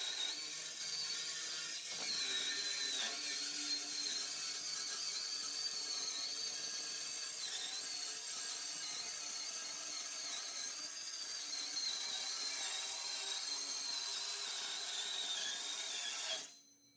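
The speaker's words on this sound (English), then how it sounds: "use a simple cordless circular saw specifically made to cut such materials" A cordless circular saw cutting through HDPE sheet, running steadily at a whining pitch for about sixteen seconds, fairly faint and continuous, then cutting off abruptly at the end.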